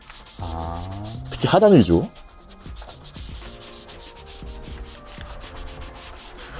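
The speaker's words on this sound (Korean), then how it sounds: "그때 브러쉬 하나 들고서 여기 막 닦아주세요." A brush scrubs the foamy plastic trim of an SUV during a self car wash, a steady close rubbing that follows a brief spoken remark.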